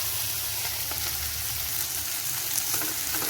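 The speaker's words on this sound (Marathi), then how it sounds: "मोहरी जिरी तडतडली की आपल्याला भेंडी घालून घ्यायची।" Okra fries in a pan of hot oil with mustard seeds and cumin, a loud, dense and even sizzle that holds steady close up throughout, with light stirring underneath.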